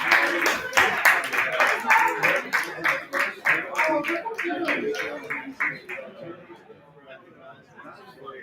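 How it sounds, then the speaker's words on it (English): Open mic poetry crowd clapping in a brew house, quick rhythmic applause with voices chattering underneath, tapering off toward the end. "Give me one more round of applause for this glorious institution that my mother has built"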